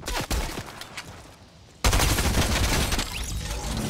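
Stinger SMG fire in Fortnite Chapter 3 crackles in rapid close bursts, first a few sharp shots, then a brief lull, then a loud sustained stream of fire to the end.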